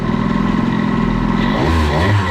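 A Fox Origine engine fitted with a Boost cylinder head, revved up from idle. It gives a loud, close, buzzing drone that swells into a deeper rising roar near the end.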